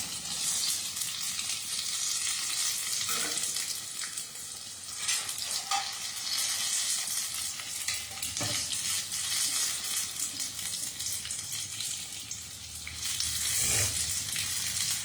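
Paneer pakoras frying in hot oil until golden red, a continuous dense sizzle with occasional sharp pops and stirring knocks, fairly quiet and steady throughout.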